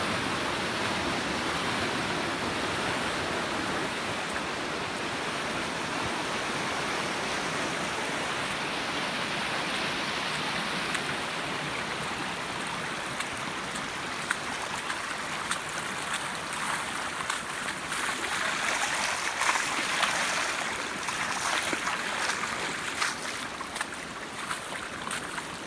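Steady, full rush of creek water where two creeks merge, a continuous broadband roar with no talking, holding close and even throughout with a slight swell late.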